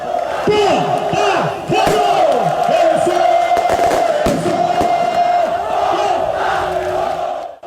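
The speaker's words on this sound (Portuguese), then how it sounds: "A torcida do Botafogo marcou presença para receber o time na chegada ao Almeidão." Botafogo supporters cheer and chant at the Almeidão stadium as the team arrives, a loud massed roar with rhythmic shouting and sharp bangs from fireworks cutting through.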